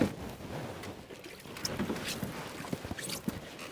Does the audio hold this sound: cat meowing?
no